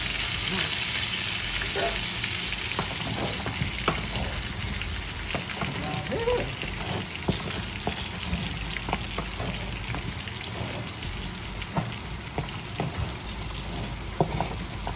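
Pork ribs for honey garlic ribs fry in a pan with a steady, dense sizzle and crackle throughout, plus occasional stirring clatter and brief voices in the background.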